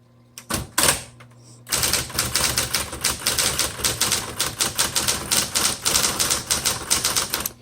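Keys strike steadily on a 1970s Smith Corona Electra 210 electric typewriter, with a few isolated clacks at first and then a continuous, close, rapid patter of typing under a faint machine hum.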